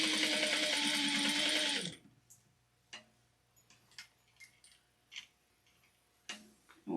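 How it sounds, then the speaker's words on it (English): A sewing machine chain-stitches similar-shaped fabric pieces for a fabric bin with a 1/4-inch seam, a steady loud whirring run that stops abruptly after about two seconds, followed by soft scattered ticks and handling clicks. "I'm going to just pop this one over here and just chain stitch it"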